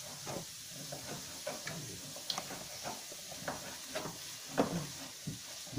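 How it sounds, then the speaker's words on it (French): Peppers and onions for jambalaya stirred in a pan, a soft close sizzle broken by repeated scraping and clinking strokes at an irregular rhythm. "Allez, Elliot, on continue de mélanger."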